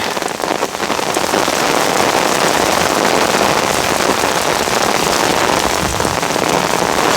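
Heavy rain pours down steadily, a dense, loud patter of drops hitting surfaces without letup.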